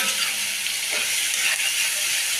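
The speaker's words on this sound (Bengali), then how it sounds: "এখন এই তেলের ভিতরে আমি পেঁয়াজ, টমেটো, কাঁচামরিচ সব দিয়ে দেব।" Steady frying sizzle with a bright hiss of oil as onions, tomatoes and green chillies fry, continuous throughout with faint stirring scrapes, no voices.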